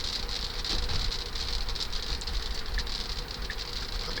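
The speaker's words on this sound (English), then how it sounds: "The rain is picking up" Steady rain patters on a Tesla driving with Full Self-Driving, a constant hiss of drops on the car body over a low road and engine rumble, with no voices.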